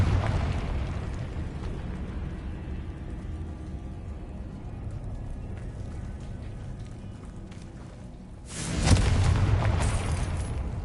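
A Confringo blasting spell explodes in the Hogwarts Legacy video game, a sudden loud burst late in the clip after a long stretch of quiet low rumble, followed by a sustained crackling roar.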